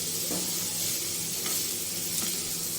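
Carrots, capsicum and cabbage sizzle loudly in a frying pan, a steady hiss broken by a few soft scraping strokes as the vegetables are stirred, with no talk.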